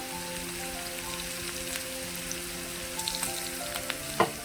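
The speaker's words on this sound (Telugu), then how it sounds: "ఇవి బ్రౌన్ కలర్ వచ్చిన తర్వాత వచ్చే వరకు వేగాలండి." Cumin and turmeric frying in hot oil for a spinach and dal curry, a continuous soft crackling sizzle with a few sharper pops toward the end, no one talking.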